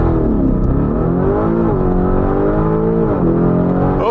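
A Lamborghini Urus accelerating hard from inside the cabin, a loud sustained engine roar with rising harmonics that dip and climb again through gear shifts, no talk.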